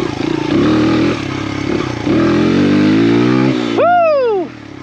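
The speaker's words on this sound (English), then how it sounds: "we're gonna go ahead and practice some wheelies" A motorcycle revving hard during wheelie practice, a loud, close engine roar climbing and dipping through several throttle pulls before a sharp rising-then-falling whine as it lets off.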